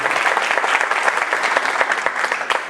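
Steady, dense applause from an audience at a Throggs Neck Home Owners Association council forum, loud and close, with many hands clapping continuously throughout.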